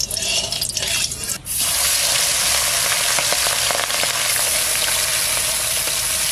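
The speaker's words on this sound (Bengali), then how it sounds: "মাছটা আমি ভাজা করবো, সামান্য হালকা হালকা করে ভেজে নেব।" Hilsa fish hits hot oil in a pan, a sudden loud hiss that settles into a bright, steady close-up sizzle with light crackling spatter throughout.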